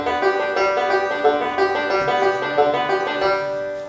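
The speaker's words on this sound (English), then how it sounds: "the first roll is called the alternating thumb roll" A banjo picks a steady alternating thumb roll, bright rippling notes running continuously at an even pace, close and alone without talk.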